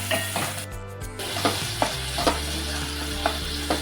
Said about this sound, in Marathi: आता आपण याच्यामध्ये टाकणार आहोत कांदा